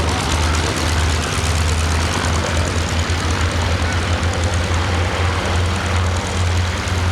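A Ryan Navion propeller aircraft at an air and car show at Little Gransden, its engine holding a steady, loud, idling drone with a low throbbing hum throughout.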